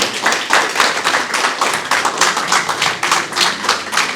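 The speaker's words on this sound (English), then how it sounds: "You guys are clapping today." An audience at an entrepreneurship workshop claps in a rhythmic, pulsing pattern, individual hand claps audible as regular beats, close and moderately loud with no talk.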